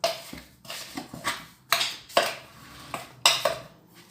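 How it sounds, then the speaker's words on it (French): A utensil stirring baghrir batter in a bowl, rhythmic scraping knocks against the bowl, about eight strokes at an even pace, close and clear. "on mélange un petit peu le tout"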